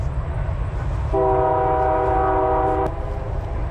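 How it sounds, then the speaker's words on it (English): A train horn sounds a sustained chord for about two seconds over a constant low rumble of rail traffic nearby. "You're about to hear a train in a second"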